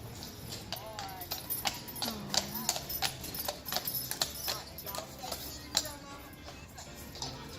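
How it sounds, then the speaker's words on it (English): Horse hooves clip-clop in a steady walking rhythm on pavement outdoors at Disney World, fairly faint and mixed with crowd murmur and distant background noise. "Almost got run over by a horse."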